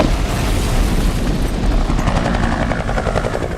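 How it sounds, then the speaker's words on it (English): Loud rumbling booms of explosions roll over a continuous chopping helicopter drone, a heavy, dense action-scene blast of noise during filming of X-Men Origins: Wolverine. "you have explosions"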